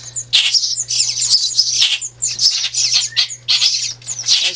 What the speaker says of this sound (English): We have some chipping sparrows on the way.